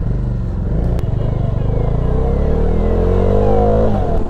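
A Bajaj Dominar motorcycle cruises along a four-lane highway, its engine droning steadily and close with a rising pitch as it accelerates, wind rush and light clatter underneath, no voices.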